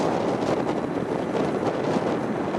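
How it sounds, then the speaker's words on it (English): A constant broadband roar of wind buffets the microphone at Chicago O'Hare airport, loud and unbroken throughout. "Literally this wind is just off the back shoulder"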